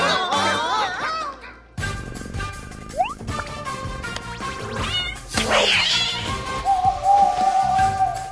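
A cartoon cat meows and yowls in several drawn-out, wavering cries, close and clear, mixed with whistling sound effects and background music.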